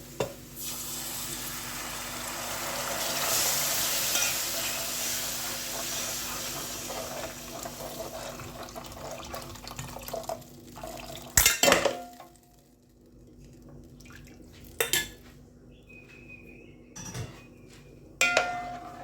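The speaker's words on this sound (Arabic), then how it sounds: "ننزل بقى بالميه بتاعتنا" Water hits a hot pot of browned rice with a loud, broad sizzle that slowly fades over several seconds, followed by a few sharp clanks of a lid or utensil against the pot.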